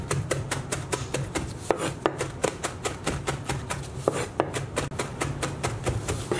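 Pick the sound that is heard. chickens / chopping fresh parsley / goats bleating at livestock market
chopping fresh parsley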